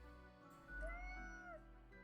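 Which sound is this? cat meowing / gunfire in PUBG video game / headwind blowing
cat meowing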